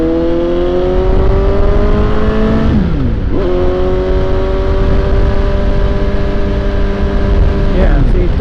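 Suzuki GSX-S750 motorcycle riding in third gear, its engine a steady loud drone that rises in pitch, dips briefly at a gear change near three seconds and again near eight, under wind rush.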